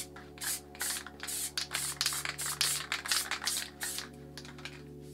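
A Dope 400 Classic spray paint can sprays in short hissing bursts, several close, light presses releasing a fine mist one after another.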